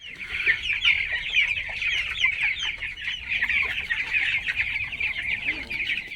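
Seventeen-day-old broiler chickens cluck and chirp continuously in a dense flock chorus, a steady layered chatter with no voices over it.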